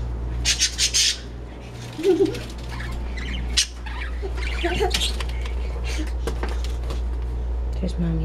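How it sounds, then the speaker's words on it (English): Pet birds in a home squawk in short loud bursts over a steady low electrical hum, with quieter chirps and rustling between calls. "There's Mommy's loud birdies."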